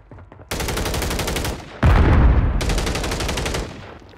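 Rapid automatic gunfire in a Warzone match, loud sustained bursts broken by a short gap and a heavy boom, with no talk.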